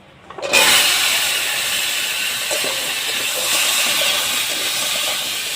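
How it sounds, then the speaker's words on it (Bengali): Chopped papaya and potato dropped into hot oil for a Bengali parshe fish curry, a sudden loud sizzle that keeps hissing steadily throughout. "মাছের ঝোলের জন্য পেঁপে আলু কেটে রেখেছিলাম এখন এই মাছের ঝোলের জন্য দিয়ে দেবো"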